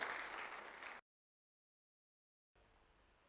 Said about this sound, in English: we just want to give you a big round of applause for this